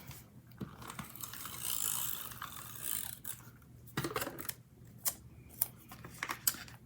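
Corner rounder punch clipping the corners of paper for a gratitude journal, a rustle of handled paper followed by several sharp, close mechanical clicks and snips, no speech.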